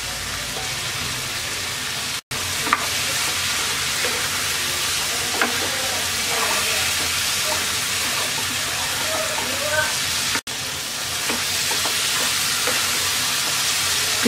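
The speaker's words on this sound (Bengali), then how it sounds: "মশলা কষিয়ে নেওয়া হয়ে গেছে, দিয়ে দিচ্ছি টমেটো ফালি।" Tomato slices frying in a cooked spice paste for koi fish curry, a continuous close sizzle with scattered stirring clinks and scrapes.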